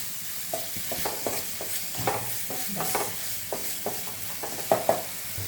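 Mutton keema seasoned with garam masala is stirred in a hot pan, giving repeated scraping strokes in an uneven rhythm over a constant close sizzle.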